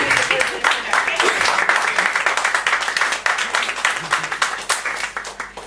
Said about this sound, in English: Please clap from each of us.